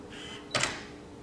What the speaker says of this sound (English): That's the instant shutter release, and the 2-second shutter release.